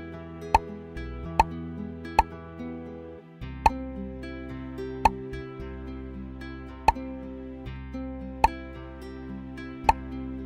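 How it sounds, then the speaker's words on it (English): Cartoon bubbles popping in a kids' number-tracing lesson, about eight crisp plops spaced roughly a second apart over a steady cheerful music bed, with no talking. "Tap on the bubbles."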